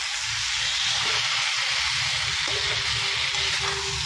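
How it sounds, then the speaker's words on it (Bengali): Potatoes sizzle in a pan of spiced masala for a potato dum, a steady loud frying hiss with a few soft stirring scrapes, no one talking. "এগুলো ঢেলে দিয়েছি, এবার আলু দিয়ে একটু নাড়িয়ে নিই"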